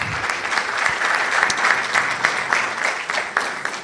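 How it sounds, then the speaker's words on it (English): An audience at the NSMQ 2025 national championship launch gives Mr. Fertechi a round of applause, steady, dense clapping throughout with no talk over it. "a round of applause for Mr. Fertechi, please"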